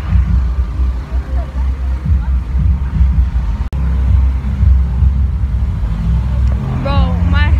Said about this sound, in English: Or not, because there are these trucks.